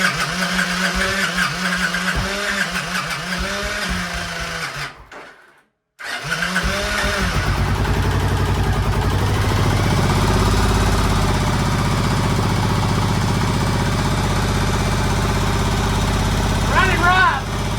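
A Victory motorcycle that had sat unused for years cranks and catches, cuts out briefly, then restarts and idles roughly and unevenly up close, with a voice speaking over the engine early on.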